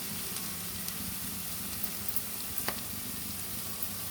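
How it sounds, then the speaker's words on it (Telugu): Sliced onions fry with turmeric in a hot pan, giving a steady, soft, even sizzle with a few faint crackles and stirring clicks throughout. "పసుపు వేసి ఆనియన్స్ వేయించుకుంటాం."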